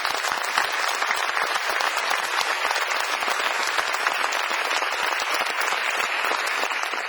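An audience bursts into sustained, dense applause at a convocation ceremony, many hands clapping loudly and evenly throughout, with no talk over it.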